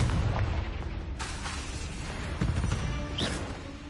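A Confringo fire spell detonates in the Hogwarts Legacy video game, a booming explosion amid a dense, loud rumble of game effects, with sharper bursts and crackles following over several seconds.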